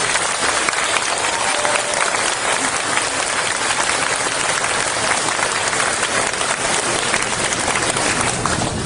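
Crowd applause for a member of parliament at a school support signing ceremony for aircraft noise areas, sustained dense clapping filling the room steadily for the full duration.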